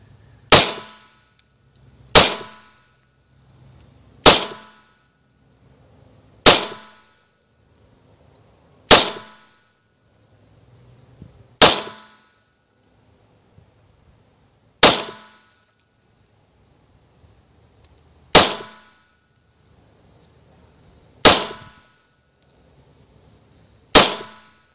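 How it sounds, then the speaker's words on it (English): A 9mm handgun fired at armor glass in a ballistics test: eleven sharp loud shots, mostly spaced two to three seconds apart, each with a brief ringing impact tail, outdoors with no talk. "Just kind of shoot around, kind of like a shooter would, or even try to concentrate fire a bit."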